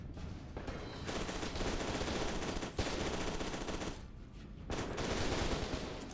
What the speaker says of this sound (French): Et je vais jouer un peu le pistolet mitrailleur.